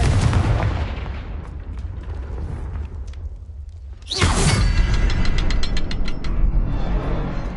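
In Hogwarts Legacy on PS5, a rumbling ambience breaks into a sudden loud Confringo fire-spell blast partway through, followed by a rapid crackling, rattling burst of debris.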